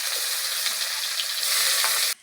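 Chopped onion fries in a pan for Bengali home-style potol dolma, a loud, steady sizzle that runs without a break and then cuts off abruptly at the end.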